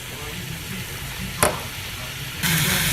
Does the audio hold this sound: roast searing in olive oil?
yes